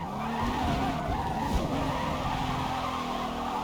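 Tires squeal and skid continuously as a car drifts in the Forza Motorsport racing game, a sustained screech layered over a steady engine drone throughout, loud and close with no pauses.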